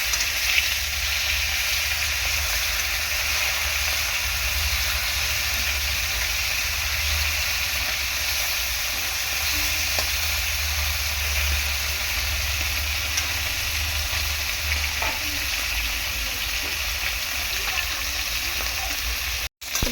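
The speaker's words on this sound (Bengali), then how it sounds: "মাছগুলো উল্টে পাল্টে ভালো করে ভেজে তুলে নেবো এখন।" Fish pieces fry in a pan, a steady close hiss and sizzle that runs unbroken, with faint scraping as they are turned, over a low background hum.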